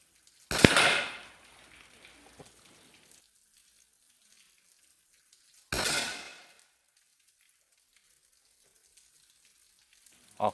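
A TPH50 CO2 gun fires twice at a target, each a sharp, close crack with a brief ringing, clanging decay, the two shots spaced several seconds apart with quiet between.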